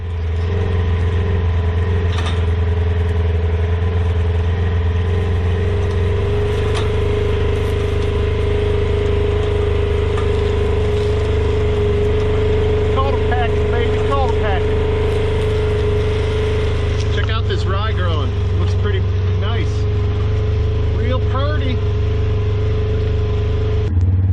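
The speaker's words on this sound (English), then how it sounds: "So now I'm going to use the cultipacker and just cultipack the living crap out of it to make sure we get that good seed soil contact" Tractor engine running steadily while pulling a cultipacker across a buckwheat food plot, a loud continuous low drone with faint clanking and squeaks from the implement, no talk.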